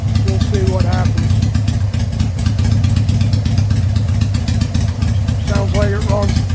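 A Harley-Davidson Sportster fitted with a velocity stack idles steadily and close, a loud, continuous low rumble with a faint voice in the background.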